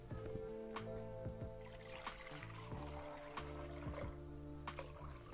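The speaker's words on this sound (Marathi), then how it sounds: "आता या पातेल्यामध्ये पाणी ओतून घेते." Water trickles and pours into a cooking pot for tea, a faint, close splashing with small ringing tones, quiet and continuous over a few seconds.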